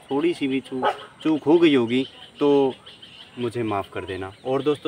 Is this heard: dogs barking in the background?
yes